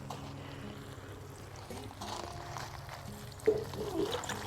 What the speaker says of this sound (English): we have some rainwater saved. We're gonna sprinkle on the carrots as well